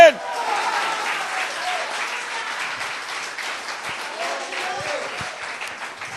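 A church congregation applauding in worship, a steady broadband wash of clapping from many hands that holds at even loudness for several seconds, with a few voices and shouts mixed in underneath.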